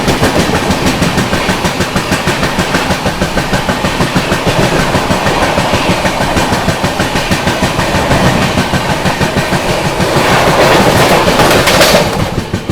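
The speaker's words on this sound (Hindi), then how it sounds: "सामने से आ रही है शालदा से चलकर नई दिल्ली की ओर जाने वाली राजधानी एक्सप्रेस।" Sealdah–New Delhi Rajdhani Express train passing close by, a loud steady rumble of wheels with rapid rhythmic clatter over rail joints throughout, swelling slightly near the end.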